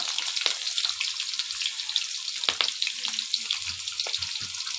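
Chopped onion with green chillies frying in hot oil on a clay stove, a steady close crackling sizzle with occasional louder pops and faint stirring clinks, no talk.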